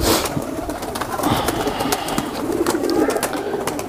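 A low flyer umbrella pigeon coos softly and repeatedly at close range, low throaty calls over a busy outdoor background with scattered chirps from other birds.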